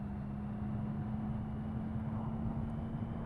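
A 2016 Triumph Speed Triple R motorcycle exhaust hums in a steady low drone on a test ride, continuous and even with a constant underlying tone and no clear revving.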